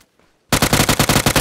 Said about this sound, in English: It's someone else shooting, yo.